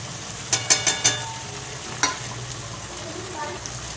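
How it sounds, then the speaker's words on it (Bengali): Chili, turmeric and cumin powders sautéing in a pan for chicken khichuri, a soft steady sizzle broken by a quick run of sharp spoon taps and scrapes against the pan, close up. "কষে নেব এবার দিয়ে দেবো লঙ্কার গুঁড়ো হলুদ গুঁড়ো আর জিরের গুঁড়ো"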